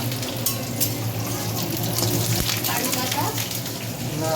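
Whole cumin, bay leaf and dried chili sizzle steadily in hot oil as a tempering for moong dal, a dense, even crackle with a faint stir or clink midway.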